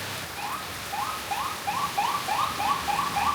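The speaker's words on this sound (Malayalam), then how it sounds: "ഇവിടുത്തെ പോലീസിന്റെ വണ്ടിയാണ് പോണത്" A police vehicle's siren in Bali sounds as a string of rising electronic whoops, repeating about twice per second and growing slightly louder, over a wet background hiss of rain.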